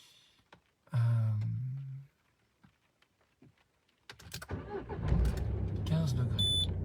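A car engine turns over with a short cranking burst from the ignition key, then after a pause settles into a rumbling idle, while a person talks nearby.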